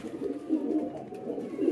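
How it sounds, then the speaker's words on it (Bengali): A newly acquired pigeon coos in a low, repeated rolling call, close and fairly loud, the throaty phrases swelling and fading in a steady rhythm with no talking. "নতুন কবুতর পেয়ে ডাক মারতেছে"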